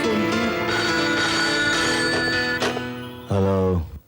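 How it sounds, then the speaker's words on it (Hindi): A telephone rings in a TV suspense drama: loud, close electronic rings that repeat, then a final short burst before cutting off, with no talking. "मैंने भूषण को फोन किया मगर जवाब नहीं मिलने पर मैंने प्रकाश को फोन किया।"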